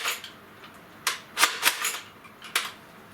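A Nerf Doomlands Vagabond blaster slam fires in a quick series of sharp snapping shots, about five close, loud pops within a few seconds over a quiet background.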